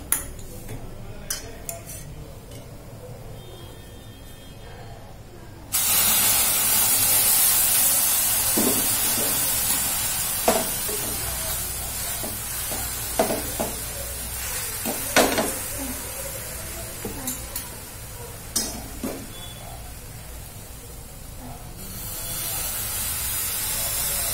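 Food fries in a pan in a home kitchen. A broad, hissing sizzle swells partway through and holds for a long stretch, with scattered clinks and scrapes of a utensil against the pan.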